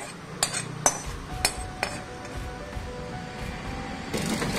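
Tomato chutney being stirred in a pan, with a few sharp utensil clinks against the metal at irregular intervals over a low, steady cooking background.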